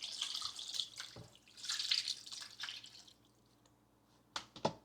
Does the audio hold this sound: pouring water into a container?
yes